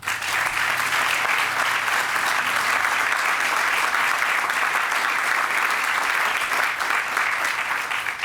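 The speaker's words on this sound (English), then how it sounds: "That's something we all can clap for right now." Sustained audience applause fills the room at the opening of an innovation center, a dense, steady wash of many hands clapping at even loudness for about eight seconds with no talk over it.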